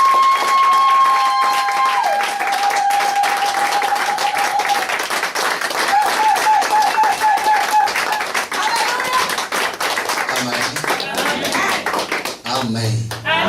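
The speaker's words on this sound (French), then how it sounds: "Nous acclamons très fort le Seigneur." A church congregation at a Sunday service applauds and cheers in acclaim, with sustained dense clapping throughout, a whistling tone and voices calling out over it, loud and reverberant.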